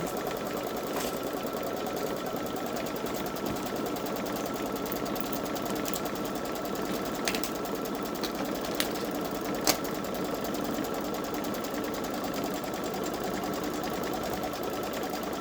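A Baby Lock Solaris 3 (Vision) embroidery sewing machine stitches a design in a continuous, even, rapid mechanical hum at moderate level, punctuated by a few faint clicks and ticks, with no voices.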